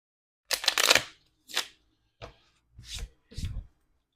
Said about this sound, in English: Just give it a couple quick shuffles here, and a cut.